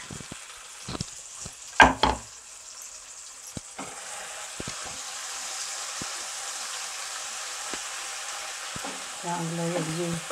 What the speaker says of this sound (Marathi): आता हे अद्रक लसूण होतं वाटलेलं, कोथिंबीर, कांदा, खडे मसाला सगळं आता परतून घेते ह्याच्यामध्ये.